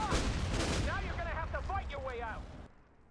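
Explosive blast and gunfire in the World in Conflict strategy game, a loud burst at the start then crackling, ringing shots and debris fading into near silence, with voices over it.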